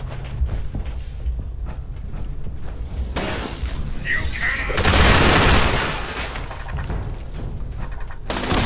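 A grenade goes off in the Fallout 76 video game during a raid boss fight: a loud booming blast with shattering debris rises out of clanking mechanical game noise, with a voice talking over it.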